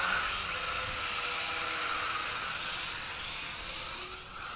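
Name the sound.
Mould King 33034 quadcopter drone flying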